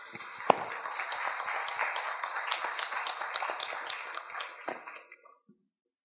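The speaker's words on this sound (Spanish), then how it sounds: "Por favor, para ellos un fuerte aplauso." Audience applause at an energy supply panel debate, a steady wash of many hands clapping for about five seconds before fading out quickly.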